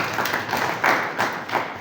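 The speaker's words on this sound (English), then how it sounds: "Clap for them." An audience at a diocesan launch event in Uganda claps briefly in scattered bursts, a short, moderately loud round of applause with no talking over it.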